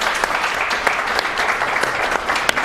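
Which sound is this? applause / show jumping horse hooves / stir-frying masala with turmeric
applause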